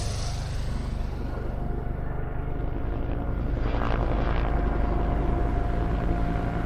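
Propeller aircraft laying smoke screens over a naval fleet drone continuously, a loud engine hum that swells slightly as one passes, with no voices.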